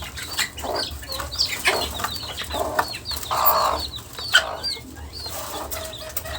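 Chickens cluck and call in a poultry farm, several birds overlapping in short bursts with occasional wing flaps, fairly close and continuous.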